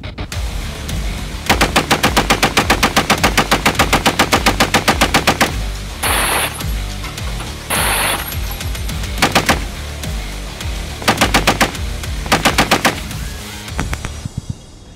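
Sustained bursts of rapid gunfire are aimed at an armored Toyota Land Cruiser Prado, loud and close, with long automatic strings, short pauses and a few sharper single cracks.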